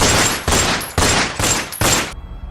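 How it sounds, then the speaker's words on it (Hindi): Five loud gunshots fired at a wolf as a horror story sound effect, evenly spaced blasts about half a second apart, each ringing briefly before the next, then a short fading tail. "धाएं धाएं करके गोलियां उस भेड़िए पर दाग।"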